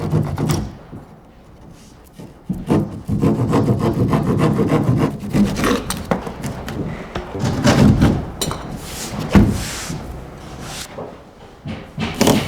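A drywall panel being trimmed by hand gives rough, irregular rasping and scraping strokes at close range, with a few knocks between bursts and no talk.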